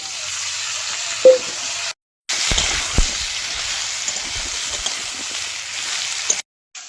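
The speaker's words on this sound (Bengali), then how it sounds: "সবজিগুলো একটু কষিয়ে নিয়েছি" Potato, eggplant and radish sauté in hot oil in a pan with panch phoron, chopped onion and garlic paste. A loud, steady sizzle runs throughout, broken by two brief silent gaps, with no talking.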